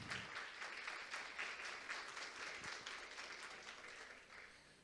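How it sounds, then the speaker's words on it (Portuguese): Conference audience applauding a panel moderator in a hall, steady dense clapping at low level, slowly thinning out toward the end. "Nilson Sarti, a quem eu peço uma salva de palmas"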